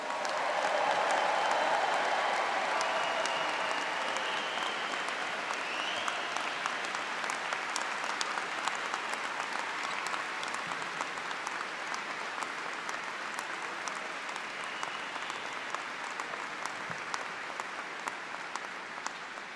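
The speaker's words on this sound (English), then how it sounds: "a final round of applause, a big cheer for the class of" Sustained applause from a large graduation audience at the University of Liverpool for the class of 2024, a thick unbroken wash of clapping with some cheering early on, gradually settling but continuing for nearly twenty seconds.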